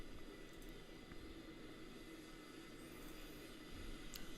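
Steady airliner engine hum at a busy airport in Microsoft Flight Simulator 2020, a Delta 767-300ER, a constant broadband roar with faint higher whines, no talk.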